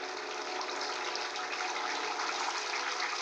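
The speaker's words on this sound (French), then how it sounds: "De l'eau." Water runs in a continuous, even hiss in the video game Distraint, a steady gushing stream heard alone at moderate volume.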